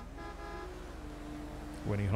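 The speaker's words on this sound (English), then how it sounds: "When he honks, you get in." A car horn honks once in a video game. The short, loud toot comes at the end, after a faint stretch of background game sound.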